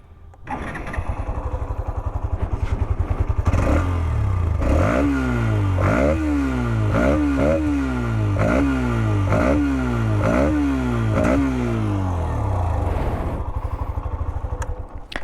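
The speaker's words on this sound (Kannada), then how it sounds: "ಇದರಲ್ಲಿ ನಿಮಗೆ ಆ ಇಂಟೆಕ್ ಗ್ರೌಲ್ ಅನ್ನೋದು ಇದೆಯಲ್ಲ, ಅದು ತುಂಬ ಚೆನ್ನಾಗಿ ಕೇಳಿಸ್ತಿದೆ ಅಂತ ಹೇಳ್ಬೋದು" A Hero Xtreme 125 motorcycle engine starts, then settles into a steady idle broken by about eight sharp revs in a regular rhythm with a growling intake note, then idles again, close and alone.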